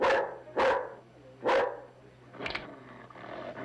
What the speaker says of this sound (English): Pull your dog off right now.